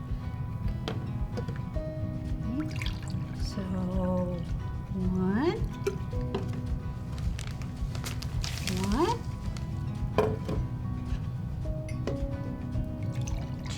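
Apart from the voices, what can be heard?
water being poured into a measuring cup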